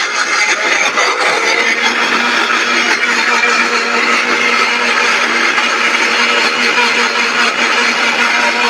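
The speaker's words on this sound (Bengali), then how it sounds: "এখন যে ব্লেন্ডারটা দেখতে পাচ্ছেন এটা হচ্ছে নোভা কোম্পানির" A Nova waterproof household blender runs continuously at a steady, loud whir for the full length, with a constant motor drone and no pauses.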